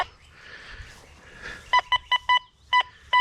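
A series of short, sharp electronic tones from a Deus 2 metal detector on a target, beeping in quick bursts over a soft outdoor rustle, then two more beeps after a brief pause.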